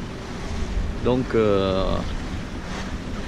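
A strong 24-knot east wind and rough sea off Cap Corse near the Giraglia, heard from a sailboat: a steady, close roar of gusting wind and waves under a man's brief speech.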